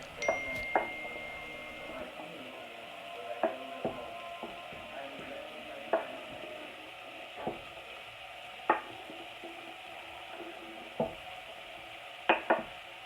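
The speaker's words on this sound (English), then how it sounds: "we're going to use the fat that rendered from that sausage and from that olive oil to add our veggies" Vegetables frying in rendered sausage fat and olive oil for split pea soup, a low steady sizzle broken by scattered sharp clicks and scrapes of a utensil against the pan.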